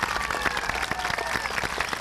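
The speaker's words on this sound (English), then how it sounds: "So give them a round of applause." Applause from an audience at an elementary school's 20th anniversary celebration, a dense, steady patter of many hands clapping throughout, fairly close and sustained for the whole stretch.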